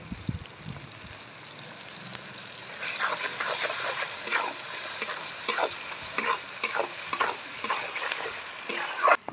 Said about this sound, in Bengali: কিছুটা এখন পরিমাণ মতো লবণ দিয়ে বেগুন লাল লাল করে ভাজবো।